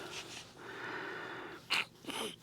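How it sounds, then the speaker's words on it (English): Soft, muffled nose blowing with snorting breaths, then a sharper snort near the end; quiet and close, no speech. "sorry, I had to blow my nose"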